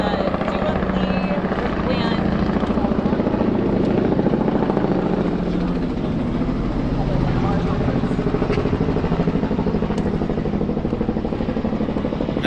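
A helicopter flies overhead, its rotor chopping in a loud, steady pulsing drone that fills the whole stretch while people talk beneath it.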